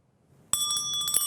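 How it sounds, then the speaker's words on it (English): A bright, metallic bell rings suddenly after a moment of near silence, its sustained tones ringing loud and close with a few quick repeated strikes. "When the bell rings,"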